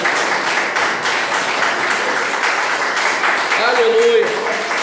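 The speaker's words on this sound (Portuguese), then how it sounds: "Dá um aplauso aí para o Senhor Jesus." Sustained applause fills a church service, a dense wash of clapping under a murmur of congregation voices, with a brief sung or spoken tone near the end.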